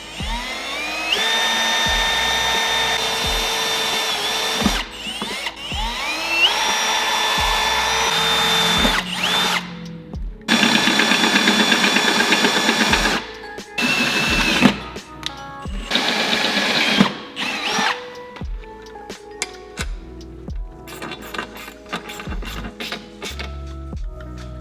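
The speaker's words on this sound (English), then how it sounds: "All we need to do is drill a little hole in the slider" A power drill whines steadily drilling a hole in a metal seat slider, stopping and restarting several times, with the pitch shifting as the bit bites and loosens.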